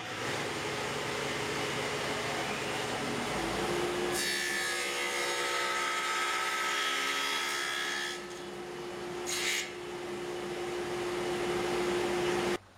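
A table saw fitted with a 15 mm dado blade cuts a groove in wood, using a board screwed to the miter gauge, a loud steady whine with grinding as the blade bites, then spinning down near the end.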